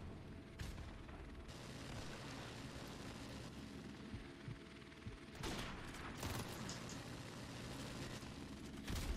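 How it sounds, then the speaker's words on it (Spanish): Helicopter gunfire in the Modern Warfare Remastered video game: a dense, continuous roar of battle noise broken by sharp bursts of shots, loudest near the start and again around the middle, with no talking. "Me ha disparado creo que el helicóptero"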